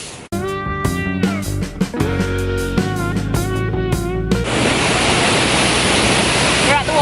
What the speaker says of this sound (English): We're at the waterfall now